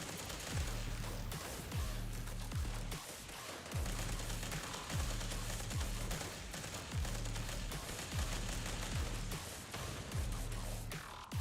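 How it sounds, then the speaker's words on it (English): Cryo grenades fired from an automatic grenade launcher in Fallout 76 thump in a rapid, repeating rhythm, each burst of launches landing in regular cycles under a steady game background, fairly faint and without talk. "Yeah, this just cryo grenades, but it's very annoying."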